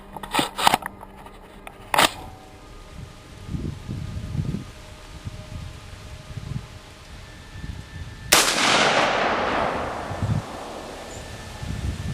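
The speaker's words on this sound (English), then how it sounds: "Yep, charging handle. Okay. 2 fingers all the way back, and just let it slam home." A rifle's charging handle is pulled back, then the bolt slams home with a loud metallic clack, preceded by some sharp clicks and handling noise at close range, followed by a lingering rattle.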